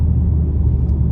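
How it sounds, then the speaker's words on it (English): S58 engine of a BMW M2 G87 giving a brief, steady low rumble, close and fairly loud, with no voices over it. "amazing S58 engine"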